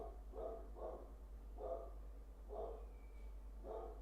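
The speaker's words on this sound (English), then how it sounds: "My dog is barking, sorry guys." A dog barks in a regular series of five or six medium-loud woofs spaced roughly evenly, indoors, with a steady low hum running underneath and no talking.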